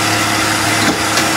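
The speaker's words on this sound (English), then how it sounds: "Skew chisel now. I'm just going to clean the underside." A skew chisel cleaning the underside of a wooden German smoker piece on a lathe, giving a loud, steady whirring and cutting hiss close up, with brief swells in the scrape and no speech.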